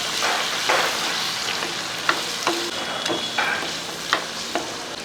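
Carrot and potato pieces fry in hot oil and get stirred, a soft steady sizzle broken by several distinct utensil scrapes and clinks. No one talks.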